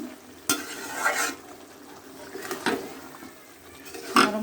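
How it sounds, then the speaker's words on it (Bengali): Boiled potatoes and chopped tomato stirred together in a pan while cooking dried fish curry, giving a few scraping, clattering strokes at a steady pace over a light background sizzle. "আমি এখন এই দুটো উপকরণকে একসঙ্গে ভালোভাবে মিশিয়ে একদম"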